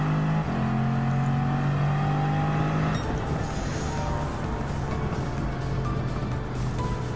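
A race car engine in Gran Turismo 7 on a European circuit, a loud steady whining drone that holds one pitch, then shifts gear and carries on under a rushing, roaring layer of road and wind noise.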